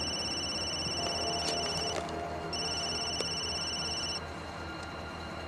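An oversized old-style telephone rings with two bursts of shrill electronic trilling separated by a pause, moderately loud against a steady background hum.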